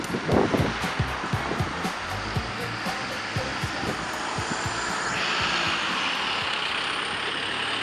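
Diesel step van driving in Montreal, Quebec, a rough engine rumble with broadband road roar that settles into a steady hiss, heard alone.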